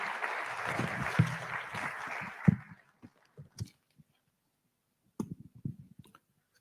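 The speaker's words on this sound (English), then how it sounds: "Can we give the registrar another big applause?" Audience applause at a physician assistants' induction ceremony: a dense burst of clapping for about two and a half seconds, then fading into scattered claps and a few isolated hand claps.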